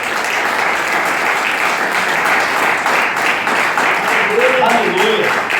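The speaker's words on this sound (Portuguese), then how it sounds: "levanta a sua mão, aplaude a Ele" A church congregation applauding, a dense continuous wash of clapping filling the space at full volume, with a voice and some music rising faintly over it near the end.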